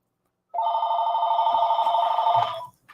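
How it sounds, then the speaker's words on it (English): Telephone ringing with an electronic trilling ring that starts abruptly, holds for about two seconds at a steady loud level, then cuts off, with nothing else around it. "Phone ringing because I forgot to undo it."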